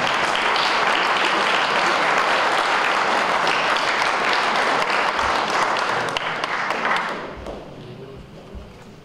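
Sustained, dense applause from an audience at an award ceremony, loud and even for several seconds before tapering off into scattered claps.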